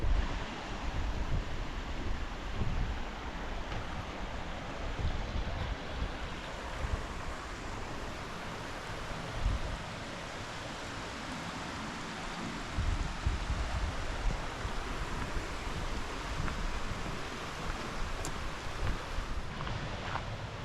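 Broad, constant rushing of Dingmans Creek fills the scene, loud and steady with a rumbling low end, and nobody speaks.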